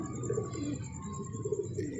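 Pigeons coo softly in low rolling phrases over a steady hum, faint and continuous in a loft at dusk.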